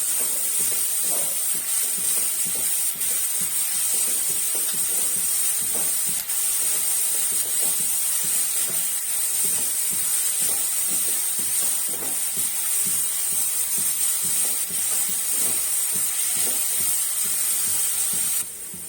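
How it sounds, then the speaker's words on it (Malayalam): Onions sautéing with salt in a pan for kothu idli, a loud, unbroken hissing sizzle with faint stirring scrapes underneath, close and steady throughout. "ഈ ഉപ്പ് ചേർത്തിട്ട് ഉള്ളി നന്നായിട്ട് വഴറ്റിയിടും"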